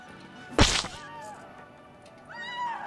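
A cat in a game gives a sharp hissing burst, then thin drawn-out meows follow, close and fairly loud with no talk.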